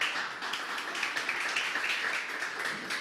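An audience at a startup demo day applauds the guest judges with sustained, even clapping throughout the clip at moderate, somewhat distant level.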